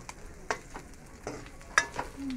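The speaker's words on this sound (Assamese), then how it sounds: "ধুনীয়াকৈ ৰঙচুৱা ভাজি লৈছোঁ।" Vegetables fry in oil in a pan, with a soft steady sizzle broken by a few sharp scraping clacks of a stirring utensil, close and quiet, with no talk.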